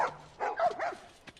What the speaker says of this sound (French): il y a des chiens